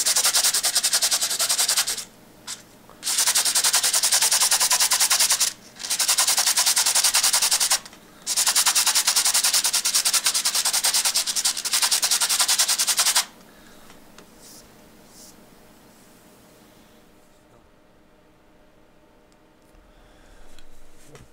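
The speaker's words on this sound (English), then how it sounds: "And I'm sanding it so it can adhere to it really well." A scuff pad hand-sands carbon fiber rods in loud, continuous scratchy strokes. Brief pauses separate the long stretches of scrubbing before the sound drops to a quieter rustle.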